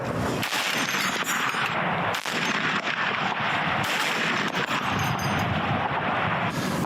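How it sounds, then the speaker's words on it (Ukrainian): Dense bursts of gunfire crackle and boom continuously on a front line under bombardment, loud and chaotic, with a few sharper individual shots standing out in the barrage. "Постріл."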